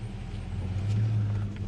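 A car driving in the rain, a close, steady low engine drone with road noise that swells slightly midway, no talking.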